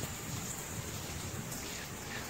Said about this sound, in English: The magnitude of rain is fucking horrendous.